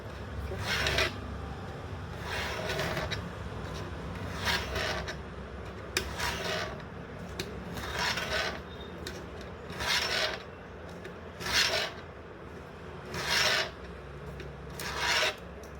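A cutter blade drawn repeatedly through a sheet of material against a ruler, giving about eight rasping strokes in a steady rhythm, close and fairly loud, with no talk.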